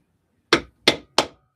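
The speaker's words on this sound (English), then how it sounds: "Use a little bit less energy on that hammer." A maul strikes a leather handle wrap on a longsword during tooling: three sharp, close thuds spaced about a third of a second apart, each ringing briefly before silence.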